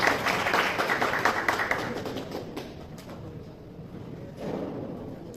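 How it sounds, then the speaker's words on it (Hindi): Applause at a prize-giving ceremony, a burst of scattered hand claps that thins out, fades, then briefly picks up again near the end, somewhat distant and without talk. "जोरदार तालियां वास्ते।"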